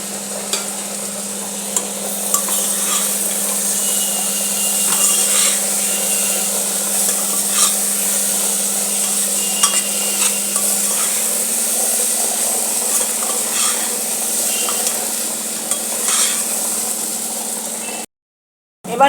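Rice with peas and green chillies is stirred through spices in a pan, a continuous scraping and sizzling with repeated spatula knocks over a low steady hum, moderately loud with no talk, ending abruptly.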